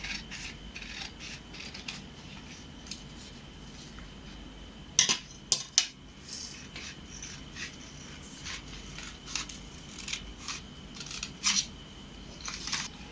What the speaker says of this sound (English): While you're cutting, you have to cut on the line.